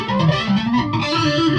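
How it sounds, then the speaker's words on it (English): Electric guitar run through a multi-effects unit with flanger engaged, a continuous distorted, sweeping swirl of sustained notes, close and loud with no pauses. "Get that flanger on and get it going."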